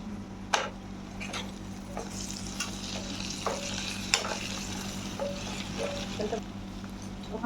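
Pointed gourd (potol) slices fry in a pan with a steady low sizzle, while a spatula now and then clinks and scrapes against the metal. The sound is moderately close and carries no talk.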